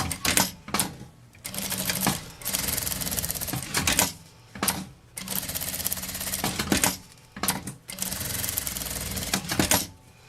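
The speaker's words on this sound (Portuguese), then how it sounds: "vou passar uma costurinha com um pé de máquina nas duas laterais e nessa partezinha aqui" A sewing machine, fitted with a presser foot, stitches the sides of a fabric summer bag flap in loud rapid bursts broken by short pauses, close up with no talking.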